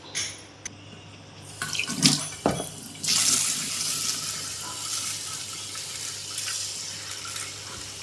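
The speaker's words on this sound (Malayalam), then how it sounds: "നല്ലപോലെ വെള്ളം ഒഴിച്ച് നമുക്ക് കുതിർക്കാൻ വെക്കാം" Water splashes from a tap into a vessel of raw rice set to soak, a brief clatter then a steady, moderately close running-water rush that gradually settles; no talk.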